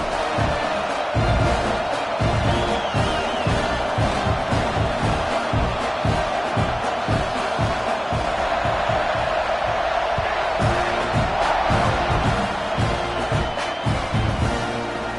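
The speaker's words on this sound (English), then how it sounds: "They're set to kick it off, and this crowd now ready to get behind them." A football stadium crowd roars and cheers steadily just before kickoff, a dense wash of voices and whoops, with a broadcast commentator talking over it.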